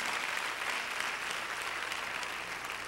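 Congregation clapping hands during a church service, a dense, steady wash of applause that holds at a constant level throughout with no voices standing out.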